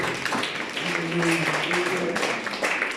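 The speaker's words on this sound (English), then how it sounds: "Let's clap our hands for her." A church congregation claps their hands in a brief burst of applause mixed with voices and calls over the clapping.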